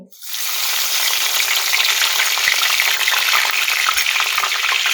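Browned cumin seeds in oil on a high gas flame break into a loud, close sizzle just after the start, for an eggplant and potato bharta. The crackling hiss holds steady to the end, with occasional soft knocks and no talking.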